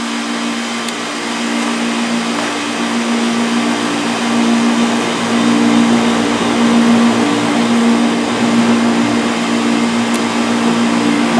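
HVAC condenser fan motor running after installation, a steady loud electric whir with a constant low hum, unchanging for the whole stretch.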